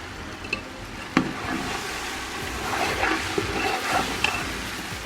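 Rice and vegetables frying with biryani masala for a vegetable biryani, a steady close hiss of sizzling with a few sharp clicks and scrapes from stirring.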